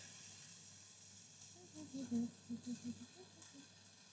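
Onions sizzle in a pan with a soft, steady hiss, while a voice murmurs over a few louder pulses in the middle.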